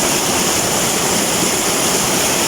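Fresh river water rushing in a steady, loud, broadband roar at Sitio Tungcaling, Darapuay, Davao del Sur, close and constant throughout with no voices.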